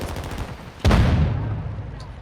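A single sharp gunshot from a Call of Duty video game cracks out mid-clip, its boom ringing and decaying over the following second above a low background of game ambience.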